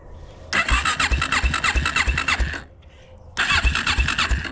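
A Kawasaki KFX400 ATV engine, with its carburetor in need of cleaning, cranks and catches, revving loudly in rapid pulses, dropping briefly to a quieter idle, then surging again close by.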